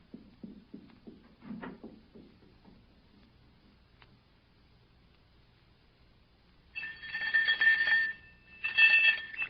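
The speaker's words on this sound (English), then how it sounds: "Ring the doorbell. I'll hear it. Ring it loud." An electric doorbell rings in two loud bursts near the end, a shrill buzzing clang, after a stretch of quiet low murmuring, in a Sherlock Holmes radio drama.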